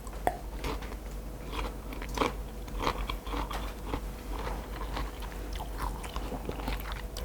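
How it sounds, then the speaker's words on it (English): Crunchy chewing of a persimmon and citrus salad, close up and continuous, with a steady run of crisp bites and wet mastication crackles and no talking. "Can you hear how crunchy it is?"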